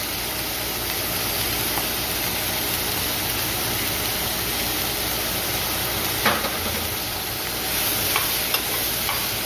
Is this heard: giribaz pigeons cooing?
no